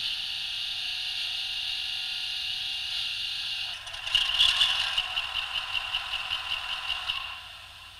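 A model railway locomotive gives a steady high-pitched whirring, then a tinny metallic rattling starts partway through and continues in quick, uneven clatters before fading slightly.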